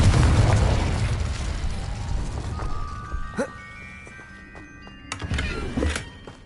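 Confringo explosion spell cast in a Harry Potter video game: a loud booming burst that rumbles and fades, then a few sharper thuds and pops follow in the fading tail.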